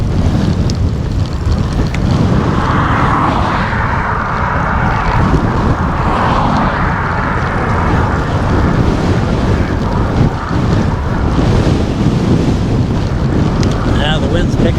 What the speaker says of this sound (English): Now the wind's picking up.